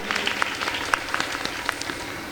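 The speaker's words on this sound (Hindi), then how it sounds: "जोरदार ताली बजा दीजिए।" An audience applauds at a religious gathering while people are honoured with garlands, a fairly faint, continuous patter of many hands with scattered sharper claps standing out, steady for a few seconds.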